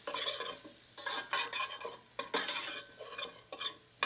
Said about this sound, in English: I'm going to give that a quick stir just to make sure that it's coating all of the vegetables